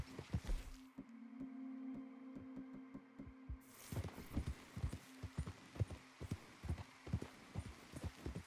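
Horse hooves clip-clop in Red Dead Redemption 2, a rhythmic run of steady hoofbeats that begins faint and grows louder and closer as the animal approaches, with no talk.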